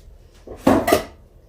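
Baking dishes and tins being handled while clearing out a kitchen: a short cluster of two or three hard ceramic-and-metal clinks and knocks, fairly close, with quiet room background and no talking.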